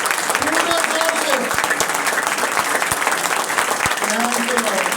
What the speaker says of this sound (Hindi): आइए खुदा के जलाल के लिए भरपूर तालियां बजाएंगे